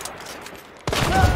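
Gunfire in the Hunt: Showdown video game, a sudden loud burst of shots erupting after a quiet stretch and ringing out through the rest of the moment.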